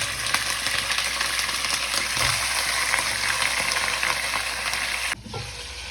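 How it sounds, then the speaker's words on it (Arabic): Chicken browning in melted ghee in a pan, a steady, loud sizzle and crackle of frying that carries on without a break, then drops off abruptly near the end. "وأحمر أول حاجة الدجاج على الناحيتين، خلي السمن يذوب معايا"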